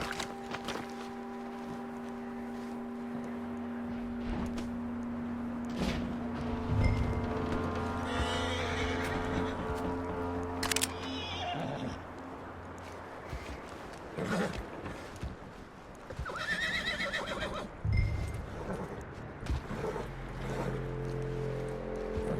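A horse in the Red Dead Redemption 2 video game neighs and whinnies repeatedly, with clip-clopping hooves and snorts, fairly close and clear against a quiet wintry background with no talk.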